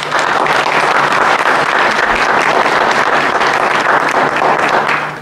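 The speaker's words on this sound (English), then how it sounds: "I'd like for us to give all the candidates a round of applause." Audience at a school board candidate forum gives a sustained round of applause, loud and even from start to finish, tapering slightly at the close.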